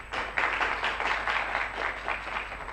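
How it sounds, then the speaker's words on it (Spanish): Applause from an audience at an annual ethnology meeting after a presenter is introduced, moderate clapping with rhythmic pulses that carries on evenly for a few seconds. "Un fuerte aplauso, por favor."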